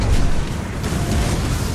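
Musket volley fired from a ship in the video game Skull and Bones, a loud, dense, rumbling blast that fills the whole moment with sustained booming noise and no pause.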